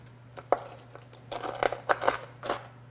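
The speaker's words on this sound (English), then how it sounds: "He gathers his bacon onto the cutting board. And begins to cut into small pieces." Bacon chopped into small pieces with a knife on a cutting board for flammkuchen, a quick irregular run of crisp, crunchy cuts growing denser toward the end, close and without talk.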